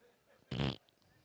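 A single loud, raspy fart bursts out in a comedy club, lasting about a third of a second against quiet room murmur before and after.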